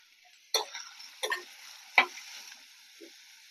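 Garlic, ginger and onion pieces fry in oil for masala ponganalu, a soft steady sizzle broken by three or four sharp stirring scrapes against the pan.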